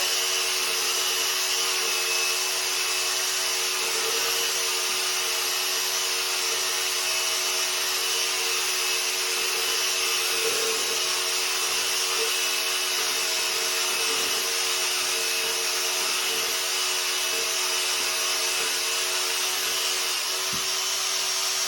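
A power drill whirs steadily and loudly with a high, grinding hiss, running continuously without pause as it churns thick drywall compound in a pail.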